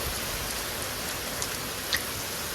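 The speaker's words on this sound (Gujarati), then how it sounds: "વરસાદ તો જોવો" Steady rain hisses continuously close by, with a few faint drip ticks standing out against the even wash of falling water.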